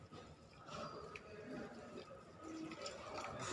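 Water poured into a bowl of flattened rice (poha) before microwave cooking, a steady running, filling splash with faint drips, close and moderately loud, no talking.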